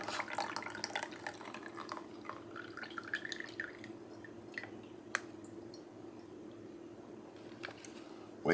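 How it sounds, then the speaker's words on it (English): Water dripping and trickling off rehydrated freeze-dried ham as it is drained in a kitchen, a quiet run of scattered drips and small splashes with a faint steady background hum. "Drain the water off."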